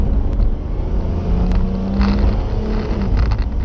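Car engine driving laps on a track on street tires, a loud, steady drone with a sustained engine tone that shifts slightly in pitch as the car runs on.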